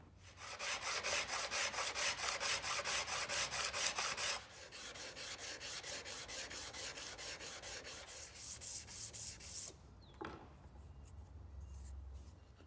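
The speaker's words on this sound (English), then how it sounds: "I left them a little bit proud that I then sanded flat." Brass flathead screw heads being sanded flat, a close, rhythmic rasping scrub in even back-and-forth strokes, pausing briefly midway and stopping near the end with a small tap.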